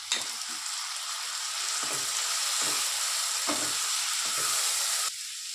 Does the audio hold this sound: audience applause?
no